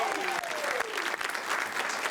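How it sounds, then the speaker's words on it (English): Studio audience applauding a comedy panel guest named Penelope, a steady dense wash of clapping that fills the whole stretch at even loudness, with a faint voice briefly audible underneath. "Give Penelope another round of applause."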